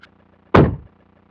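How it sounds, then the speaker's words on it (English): The door of a Ford Maverick pickup swings shut with a single solid, close thunk that fades within a fraction of a second against quiet background hum. "Let's make sure I can close the door."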